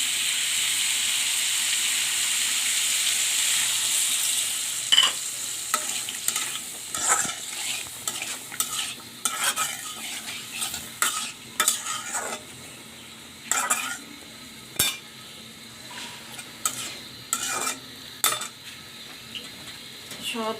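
Mustard paste and mixed vegetables sizzle in a pan, with a hiss that fades as a metal spoon scrapes and clatters against it in repeated, uneven stirring strokes.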